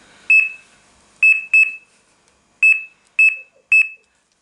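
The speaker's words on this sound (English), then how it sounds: "Turn the alarm off, set your line, then turn it back on." Fox Micron fishing bite alarm at its highest volume beeping in six sharp, loud electronic bursts, two of them in quick pairs, with silence between.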